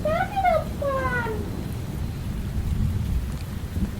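Steady rain falls outdoors on open rocky ground, a dense even wash of patter filling the scene while a whistle-like tone rises briefly near the start and a faint distant rumble lingers underneath.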